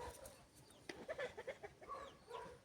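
Several short, mid-pitched clucks from chickens in a quick irregular burst, fairly faint against a quiet background.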